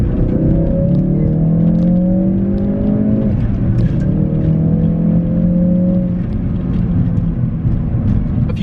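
A 2018 Ford Focus RS accelerates hard in second gear, its engine note rising loud and close through one pull, dipping at the shift and climbing again, with a steady whir underneath.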